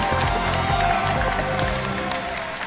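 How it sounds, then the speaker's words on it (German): Applause for a player at a Smash Bros. tournament at Gamescom 2015, a steady, loud wash of clapping from a crowd, with an announcer's voice and rhythmic stage music underneath. "Großen Applaus bitte für Sui!"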